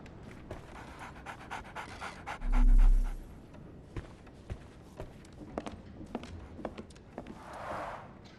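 Rhythmic dog panting from a pet dog in the video game Sherlock Holmes The Awakened, steady quick breaths running throughout alongside scattered footsteps and small clicks.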